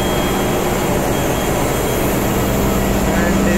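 Container ship engine room with the main engine, turbocharger and generators running, a loud steady mechanical roar and broadband hum filling the space without pause.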